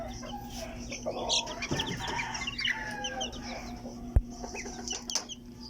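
Chickens in a backyard flock, including a Polish white hen, cluck and call in a steady scattered chorus, with a brief sharp knock near the end.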